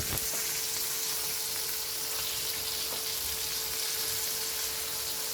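Malvani prawns (kolambi) frying in oil in a pan, a steady close sizzle with a few soft stirring clicks, no voices.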